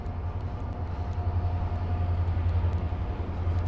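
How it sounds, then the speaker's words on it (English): A big train rolls past near the monuments on the National Mall in Washington, a steady low rumble with a constant mechanical drone, continuous and fairly close, with no talk over it. "there's a big train coming"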